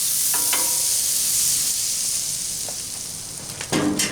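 Oil and butter sizzle steadily with vegetables on a Blackstone griddle, a loud continuous frying hiss with a few scrapes and clinks near the end.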